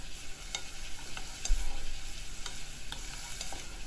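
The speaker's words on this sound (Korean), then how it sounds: "다음에 양파를 볶아줍니다." Onions stir-fry in a pot for a Korean home-cooked soup, a soft steady sizzle with light scraping stirs and occasional clicks of a utensil against the pot, fairly quiet and close.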